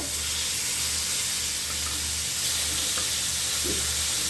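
Fish fries in a pan with a loud, continuous sizzle and hiss of hot oil, heard close up with no talking.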